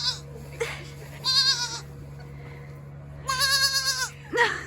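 Goats on an organic dairy goat farm bleat in several wavering, nasal calls, two long loud bursts and a few shorter ones, close by over a steady low hum.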